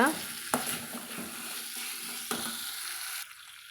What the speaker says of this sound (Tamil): ஒரு ரெண்டு நிமிஷம் வந்து நம்ம இதை கலந்து விடலாங்க